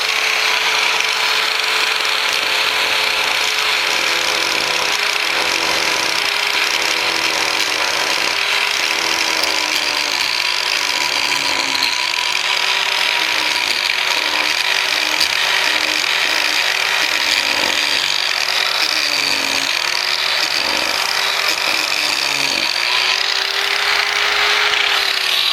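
A rotary chainsaw carving disc fitted with a depth limiting plate cuts into wood with a loud, steady grinding whine, the pitch dipping and recovering repeatedly as the disc bites and eases, with no talk.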